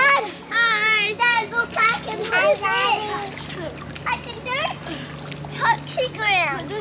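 Children shout and chatter while splashing in a swimming pool, with bursts of water splatter near the microphone under their lively voices.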